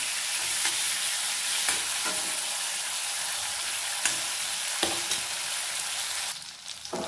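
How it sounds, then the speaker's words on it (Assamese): Dry fish fries in hot oil with onion, ginger, garlic and chili, giving a steady close sizzle throughout, with occasional stirring knocks and scrapes in the pan. "পিঁয়াজ, আদা, নহৰু, জলকীয়া আদি মিশ্ৰণবোৰ দি লৈছোঁ আৰু তাৰপাছত এটা মাছখিনি দিছোঁ।"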